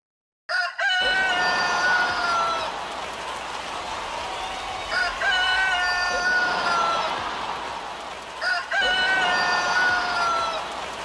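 Person imitating a chicken, delivered as a talent-show skit: three long, loud, warbling crowing calls in succession with brief breaths between, close and alone.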